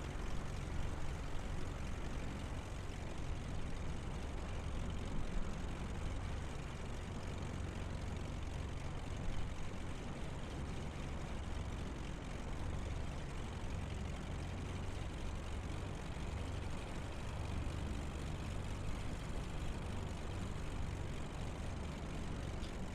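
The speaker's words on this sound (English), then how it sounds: "Let's park this airplane." Airplane taxiing to parking in Microsoft Flight Simulator, a steady droning engine hum held at even volume with a deep low rumble throughout, no voices over it.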